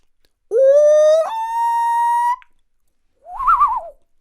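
A man imitates a common loon call with his voice: a long, rising wail that holds steady, a short pause, then a shorter wavering tremolo phrase, close and clear with nothing else heard.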